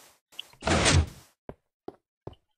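A door in the video game Minecraft swings with a short knock, then a longer scraping open-and-shut sound, followed by three sharp isolated taps, all close and clear with no talking.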